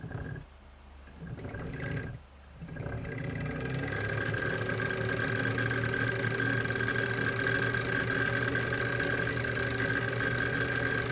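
Kenmore 117.95 sewing machine motor running steadily under foot-pedal control, a continuous hum that starts after a brief pause and then holds level and fairly loud without any talk.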